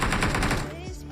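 Rapid gunfire in the mobile shooter BGMI, a quick burst of several loud shots fired in close succession, followed by a brief electronic tone.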